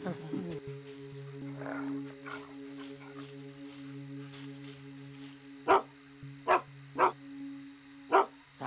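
A dog barks four times, sharp and fairly close, spaced out over a few seconds against a steady background of crickets and a high electronic hum.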